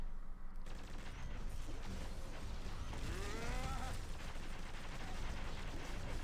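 Magneto's debris-firing skills in the PC game Marvel Heroes Omega make a dense, continuous barrage of rapid impacts and rumbling blasts, with heavy layered game effects that fill the whole stretch without pause.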